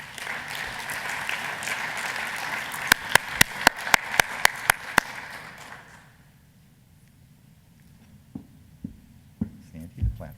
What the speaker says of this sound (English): give a warm round of applause to a wonderful person and a wonderful speaker, Sandy Barker.